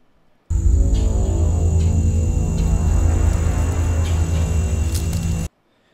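Cinematic ambience of wind through a forest, with a dense steady rumbling bed and a thin high insect-like whine, swelling in sharply, holding evenly for about five seconds and cutting off.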